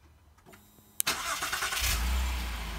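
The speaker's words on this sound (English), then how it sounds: "And the engine will start right up for you." A 2016 Acura RDX Elite AWD fires up by remote start from the smart key: a quiet lead-in, a sudden crank, then the engine catching and settling into a steady, fairly loud idle.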